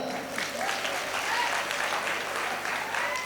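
Audience at a village fair comedy show claps in a sustained, dense round of applause, steady and fairly close throughout with faint voices mixed in.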